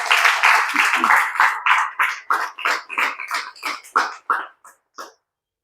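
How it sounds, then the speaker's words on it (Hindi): Congregation at a Hindi church service applauding together, a run of close, loud claps in uneven bursts that thin out and fade toward the end. "एक अच्छी ताली परमेश्वर की महिमा के लिए"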